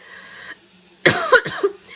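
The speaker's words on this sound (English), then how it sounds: "you're catching me coughing too" A woman coughs during a live floral design session, a short burst of two or three harsh, close coughs after a faint breathy moment, with no talking.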